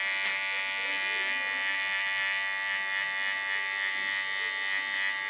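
Keone electric hair clipper with its blade set to about 2.5 millimeters, cutting hair for a pixie cut; a steady, close, high-pitched electric buzz hums without a break throughout.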